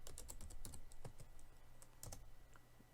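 Typing code on a computer keyboard: quick, close clicks come in uneven bursts with short pauses between, quiet and clean against a faint background hum.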